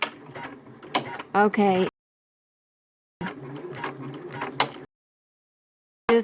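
A Janome multi-needle embroidery machine, an MB-series model, stitching in close, fairly loud mechanical bursts of whirring and clicking, broken by abrupt stretches of silence, with a person briefly speaking.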